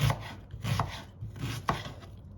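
A knife chops an onion on a cutting board in a run of quick, close, uneven strokes, each a short crisp thud with a papery crunch.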